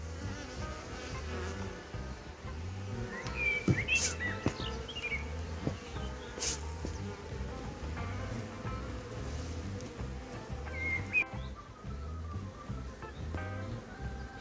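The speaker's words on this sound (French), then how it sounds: "Ça fait du bien de voir et d'entendre les abeilles à ce point" Dense, continuous droning of many honeybees working around the hives of an apiary in late afternoon, a close steady hum with occasional louder passes near the ear and faint bird calls behind.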